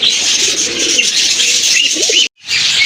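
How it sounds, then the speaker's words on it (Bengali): A pair of Bombay pigeons coo close by in a loud, continuous, throaty murmur that cuts out abruptly for a moment near the end, then resumes. "একদম গাঢ় লালের ভিতরে একজোড়া বোম্বাই কবুতর"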